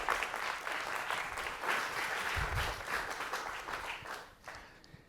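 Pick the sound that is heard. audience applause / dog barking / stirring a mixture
audience applause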